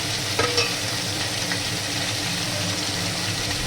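Large Bangladeshi hilsa fish pieces fry in oil with a loud, dense, continuous sizzle and a couple of brief clinks early on.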